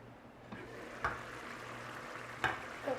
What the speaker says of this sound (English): Reduce the heat to medium-low, and we'll let these saute covered.